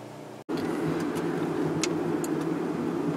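A car driving along roads near Serpukhov, heard from inside the cabin: a steady, close wash of engine and tyre noise with faint ticks and a brief dropout near the start, and no talking.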